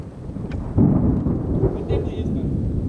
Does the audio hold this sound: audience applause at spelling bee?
no